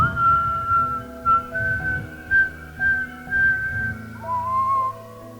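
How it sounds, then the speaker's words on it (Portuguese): A group of people whistle a song together, a sustained somewhat uneven melody held fairly loud and close, with soft background sounds beneath and no talking. "mas assobiando vocês são desafinados também."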